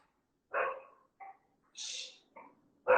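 Several dogs bark in short loud bursts, about five sharp barks with pauses between, close by in an indoor room.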